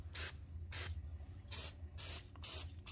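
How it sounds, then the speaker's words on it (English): Brake cleaner hisses from an aerosol can onto a greasy car part on a VW MK6 Cabriolet, several short bursts in an irregular rhythm, close and fairly quiet against a low hum. "Just run some brake cleaner over this"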